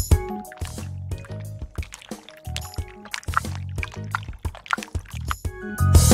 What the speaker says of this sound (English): I wanted some constant water splashing.